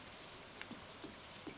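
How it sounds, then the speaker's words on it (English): Steady rain falls across a Stardew Valley farm in the video game, a soft continuous patter with a few scattered droplet ticks, quiet and even throughout. "Amazing, it's raining again."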